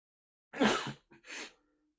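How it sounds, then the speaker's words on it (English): A single sharp sneeze bursts out close by, a quick inhale followed by the explosive release, then silence. "See, I sneeze."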